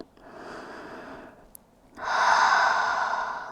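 During a Pilates stretch in child's pose, a soft inhale through the nose gives way after a brief pause to a longer, louder breathy exhale, close and alone.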